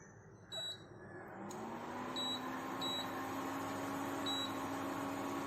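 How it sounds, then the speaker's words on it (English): An induction stove gives a few short, high electronic beeps as it is powered on in a kitchen, spaced a second or so apart over a steady low fan hum. "And now we are going to power the induction stove."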